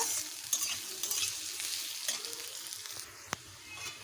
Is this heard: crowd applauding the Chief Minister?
no